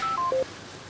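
Telephone keypad dialing tones for a phone call, a quick run of short clear beeps followed by a low steady hum, loud and close with no voices.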